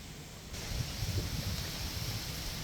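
Steady wind blowing and buffeting a microphone, a continuous low rushing noise with no voices.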